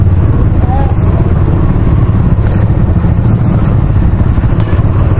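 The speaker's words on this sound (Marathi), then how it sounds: "आता वडनगरच्या छोट्या छोट्या गल्ल्यांमधून आम्ही बाईक काढत आहे" A motorcycle engine hums loud and close while riding through the narrow lanes of Vadnagar town toward the highway, with steady rumble and wind noise throughout.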